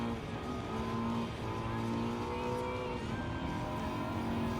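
A turbo sports car races in Gran Turismo 7, its engine holding a steady, loud drone with shifting tonal whine throughout. A voice talks over the engine noise.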